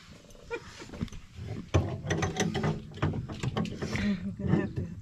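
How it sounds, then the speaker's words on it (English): A metric speed wrench ratchets while fastening parts during a battery monitor installation, giving quick bursts of close clicking and rattling, with faint voices in the background. "Metric speed wrench."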